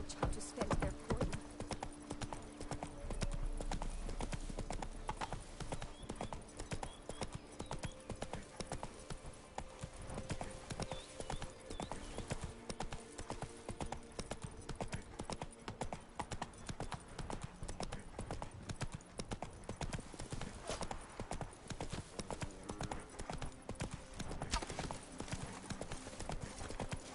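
Roach, a horse in The Witcher 3: Blood and Wine, trots with steady, continuous clip-clop hoofbeats under game music and ambience, while a voice speaks briefly over it.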